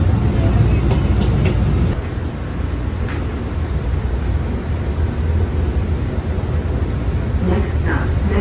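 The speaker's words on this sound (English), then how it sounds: "commuter train just passed us," A commuter train running close by, with a continuous heavy rumble and rattle of wheels on track, a high wheel squeal ringing throughout and a few sharp metallic clanks, loud from start to finish.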